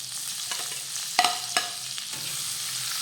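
Chopped capsicum being mixed with spices in a hot pan, a soft continuous sizzle with a few sharp spoon scrapes and clinks against the pan, close and alone.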